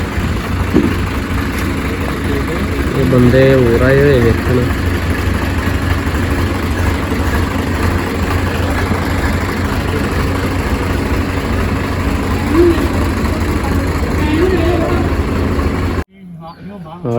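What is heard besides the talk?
Swaraj 855 tractor engine idling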